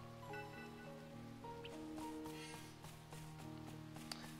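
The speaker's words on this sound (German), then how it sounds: "Regen. Strömender Regen." Steady pouring rain in the video game Sword Art Online Hollow Realization, a constant even hiss with occasional droplet ticks, layered under sustained tonal background music at moderate level, no voices.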